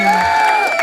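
Crowd cheering and applause at an awards event, a short busy burst of voices and clapping close by.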